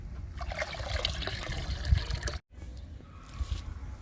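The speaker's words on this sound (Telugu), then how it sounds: "ఇప్పుడు ఈ రెండు లిక్విడ్స్ని డైల్యూట్ చేసుకుందాము వాటర్లో" Fresh cow dung liquid fertilizer trickling and dribbling into a bucket of water for dilution, a close, steady wet pouring with a brief gap near the end.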